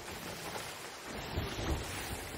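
Stormy sea in the Sea of Thieves game: a steady roar of wind, rain and waves with low rumbles of thunder swelling near the middle, loud and continuous with no talking.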